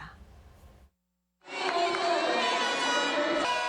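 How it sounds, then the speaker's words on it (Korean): Crowd at a world youth taekwondo championship arena roars steadily for their national athletes, a loud sustained cheer with whistling after a brief pause following a voice. "자국의 선수들을 응원하는 열띤 함성이 경기장을 가득 메웁니다"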